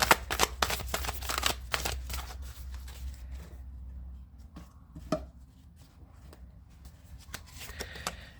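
A tarot card deck is cut and shuffled on a table, a quick burst of riffling and sharp card taps up close, then quieter scattered clicks and slides of cards.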